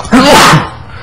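A single sharp allergy sneeze bursts out close by, a quick intake followed by an explosive release, then quiet.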